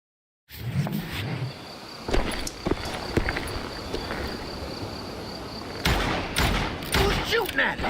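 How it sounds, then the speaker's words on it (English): Gunfire from an outnumbered Wild West shootout in the video game Call of Juarez Gunslinger, with sharp shots cracking irregularly over steady background ambience and a louder burst near the end. "Who's shooting at us?"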